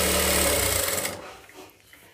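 A sewing machine stitches a blouse sleeve in a loud, fast, steady whir for about a second, then stops, leaving only faint handling noise behind.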